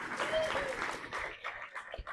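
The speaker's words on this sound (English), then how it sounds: "Give them a round of applause," Audience applause at an evening speech event, a crowd clapping fairly close and moderately loud, thinning out toward the end, with some voices mixed in.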